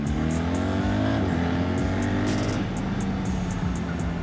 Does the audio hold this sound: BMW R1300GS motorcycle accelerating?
yes